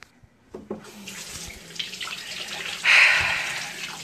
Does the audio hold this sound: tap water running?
yes